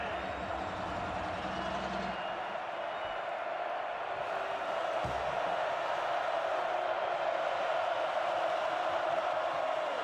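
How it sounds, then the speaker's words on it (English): Football crowd roaring inside Nippert Stadium during a game, a dense, sustained wash of cheering that swells slightly and stays loud to the end, with a broadcaster's voice briefly over it. "here comes this crowd inside Nippert"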